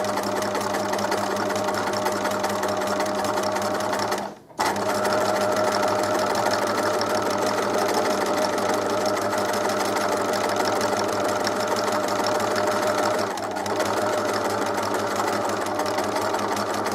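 Close and loud, a sewing machine stitches machine embroidery in a fast, steady mechanical hum that runs almost continuously, with a brief stop near the start.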